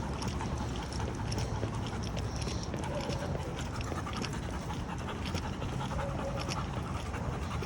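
A dog pants heavily and steadily close by during a training walk, with rhythmic breathing and scuffling over outdoor background noise; no distinct barks stand out.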